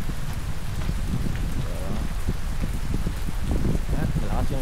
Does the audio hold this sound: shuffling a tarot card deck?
no